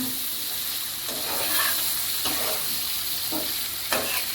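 Potatoes sautéing in a hot pan for a Malabar spinach curry: continuous oily sizzling with scraping stirs and clinks of the spoon every second or so, close and fairly loud.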